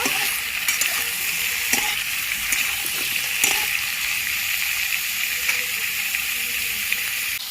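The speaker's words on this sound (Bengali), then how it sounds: "ধুয়ে রাখা সবজিগুলো দিয়ে দিচ্ছি। সবজিগুলো একটু ভেজে নেব।" Potatoes and vegetables sizzle loudly in a pan, a dense, close frying hiss broken by a few sharp clinks and scrapes as they are stirred.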